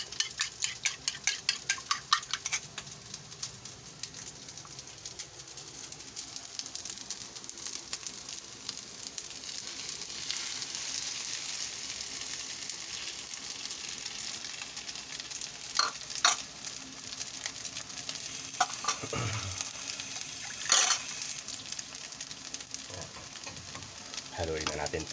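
An egg frying in a pan with oil and being stirred, giving a steady close sizzle with scraping and clinks of a utensil against the pan throughout.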